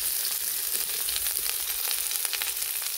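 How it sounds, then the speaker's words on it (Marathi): Onions frying for chicken dum biryani in a pan over a wood-fired chulha, a steady close sizzle with crackling pops running continuously throughout. "आता आपण बिर्याणीसाठी कांदा भाजून घेणार आहोत."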